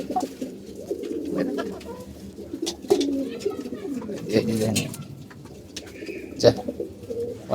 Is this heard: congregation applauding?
no